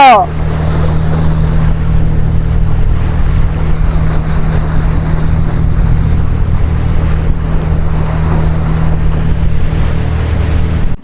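A speedboat ride on a resort lake at Subornogram Resort, Narayanganj, a loud, steady engine drone with rushing water and wind buffeting throughout.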